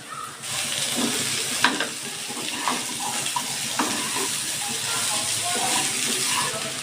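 Eggplant, potato and pumpkin fry with onion and turmeric in hot oil in a pan, giving a continuous close hiss and sizzle broken by occasional stirring clinks and scrapes, with no one speaking.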